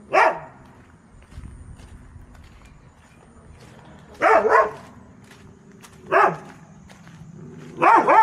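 Dogs bark in short, loud bursts separated by quiet stretches, with a faint low rumble between barks; barks come in pairs and singles, fairly close by.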